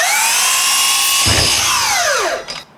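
Power saw cutting a trim piece for an accent wall, a loud high whining spin with a short thudding cut in the middle, then the motor winding down and stopping, no talk.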